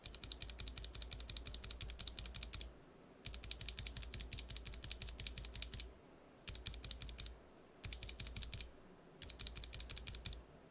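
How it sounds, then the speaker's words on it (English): NovelKeys BOX Cream mechanical keyboard switches clicked in rapid steady bursts, loud and close, with short silent pauses between the runs of keystrokes. "So let's just click these, you know, without a cap, with a cap, and then after that, lubed, no lube."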